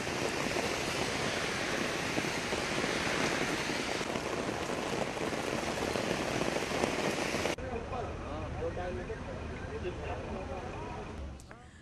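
Rain falling on a flooded Delhi street, a dense, continuous hiss of drops at close range that abruptly becomes quieter and thinner partway through.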